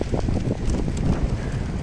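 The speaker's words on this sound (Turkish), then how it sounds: "Oo, çok rüzgar alıyoruz" Strong wind buffets the microphone in a steady, loud low roar with no pauses and no voices.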